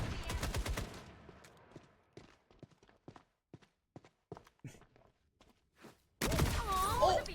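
Gunfire in the shooter game FragPunk, a rapid volley of shots at the start followed by scattered single reports and footsteps-like thuds, then a loud noisy burst near the end.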